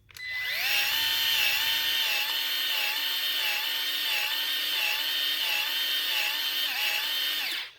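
A Milwaukee M12 cordless grease gun pumps grease into a trailer bearing buddy, its motor whirring loudly and steadily for several seconds with a slight rhythmic pulse, then stopping.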